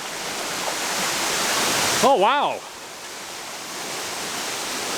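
A waterfall in Zion National Park roars as a steady, broad wash of falling water throughout, with a brief exclamation from a nearby voice partway through.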